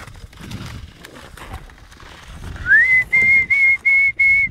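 At a race, a sharp whistle rises into a held tone, then sounds four short, loud, evenly spaced blasts over faint background noise.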